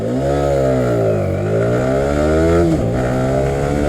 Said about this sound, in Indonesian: dari posisi stop kita coba akselerasinya